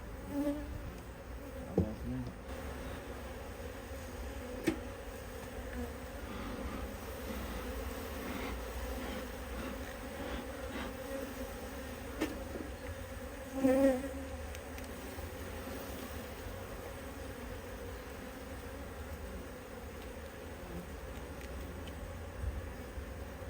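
Honey bees hum in a steady, low drone close by around an opened hive, with occasional louder individual buzzes passing near and faint handling knocks.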